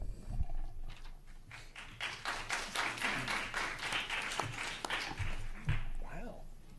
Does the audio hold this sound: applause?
yes